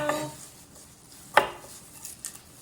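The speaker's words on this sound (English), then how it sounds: "I just take this root end, I'll cut that off like so" A knife slices the root end off a garlic clove on a cutting board, one sharp chop in the middle among a few lighter knocks and scrapes of kitchenware in an otherwise quiet room.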